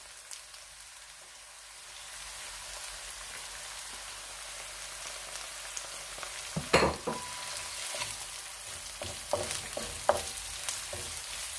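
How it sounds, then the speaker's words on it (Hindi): Onion drops into a hot pan for dosa masala and the sizzle swells from a quiet hiss into a steady, close crackle, with a few stirring clinks and scrapes scattered through it. "साथ ही ये प्याज भी डाल दूंगी।"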